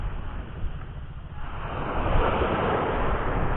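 Ocean waves wash onto a beach at low tide in Binmaley, Pangasinan, a steady rushing surf mixed with wind buffeting the microphone, swelling louder toward the end.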